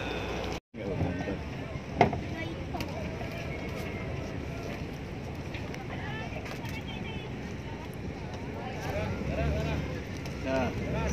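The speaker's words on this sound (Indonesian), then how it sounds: "ini kapal sudah mulai berlabuh. Kita akan menyusuri Sungai Kapuas" Boat travelling on the Kapuas River in West Kalimantan, with steady engine and water rumble mixed with wind buffeting the microphone, continuous and fairly close, while people talk over it.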